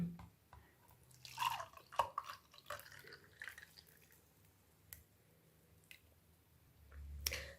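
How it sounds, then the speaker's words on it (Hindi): Mint lime juice poured into a glass: soft dripping and splashing liquid sounds with small clinks, quiet and close, coming in short bursts with pauses between them. "अब मैं इसे ग्लास में निकाल देती हूँ।"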